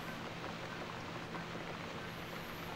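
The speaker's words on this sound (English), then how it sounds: "Looks like we got the rain back." Steady rain falls in a quiet scene from The Cat Lady video game, a soft, even hiss of drops that holds unbroken throughout, faint and without voices.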